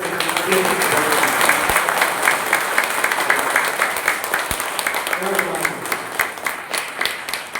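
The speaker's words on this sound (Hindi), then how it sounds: "तो मौका जब मिला है तो बजा दिया जाए ताली सर, अपने सेहत के नाम पे" At an AWPL training program, an audience claps in sustained, dense applause that stays loud throughout, with voices mixed in and a couple of sharp thumps.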